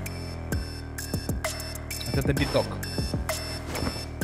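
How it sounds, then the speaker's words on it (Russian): An alarm clock rings in the Drug Dealer Simulator video game as a steady electronic tone with a high repeating beep, continuing under someone talking throughout. "А это будильник"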